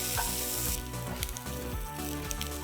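A large onion frying in a pan gives off a close, steady sizzle and crackle, briefly and at moderate volume, with no voices.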